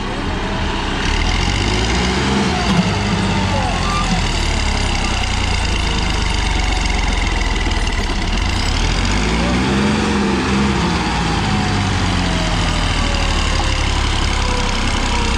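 Tractor engine running at a tractor competition, a loud, steady, continuous drone close by that swells slightly twice, with crowd noise and voices mixed in underneath.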